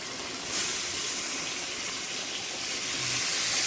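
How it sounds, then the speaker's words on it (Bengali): Water poured into a pot of mutton kosha, a loud continuous splashing gush that starts suddenly and keeps streaming steadily with no talk over it. "এখন একটু জল দিয়ে দেবো এই গামলা ধোয়া জলটা দিয়ে দেবো"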